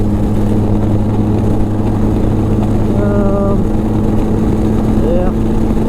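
A 2014 Polaris RZR 800 side-by-side holds a loud, steady engine drone at its rev limiter around 6,400 RPM, with brief tonal wavering partway through as the limiter cuts in.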